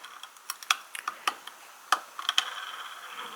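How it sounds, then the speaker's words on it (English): Small plastic wheelsets snapped into a Hornby mineral wagon model with NEM pockets, producing a series of sharp, light clicks and taps close up, irregularly spaced over quiet. "get the wheels back on, which just simply click in place"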